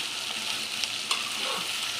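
A steady, close hiss of vegetables frying in a pan, with a few faint scrapes from stirring and no talking, for a white kurma.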